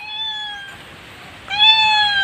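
Pet cats meow at home, two drawn-out, clear cries close by, one early and a louder one after a short pause.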